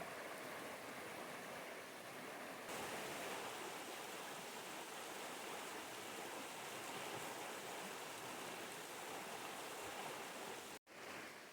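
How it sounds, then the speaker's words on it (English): The Upper Salmon River flows right beside a cabin trail, a steady, even rush of water holding constant throughout, broken only by a brief dropout near the end. "The river literally is right here at your doorstep, and it's just beautiful."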